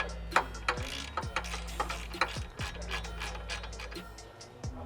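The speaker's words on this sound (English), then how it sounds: "you should be able to thread that banjo bolt right in" A banjo bolt on a Nissan 370Z clutch line, fitted during a CSC elimination kit install, is threaded in and tightened with a ratchet, giving close, quick metallic ratchet clicks in short repeated bursts with no talk.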